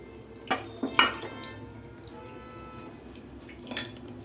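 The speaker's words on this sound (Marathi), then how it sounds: "चमचा फिरवणार आहोत त्याच्यात आणि ते गाळून घेणार आहोत." A spoon scrapes and clinks inside a metal strainer as drumstick soup is pushed through: a few sharp metallic knocks early, a quieter stretch of faint dripping and stirring, then one more clink near the end, close and without talk.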